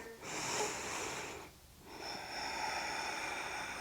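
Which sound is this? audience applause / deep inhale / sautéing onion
deep inhale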